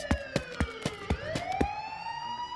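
A police car siren wails loud and close in a rising, continuous tone, with repeated sharp clicks or knocks punctuating it at a steady rhythm.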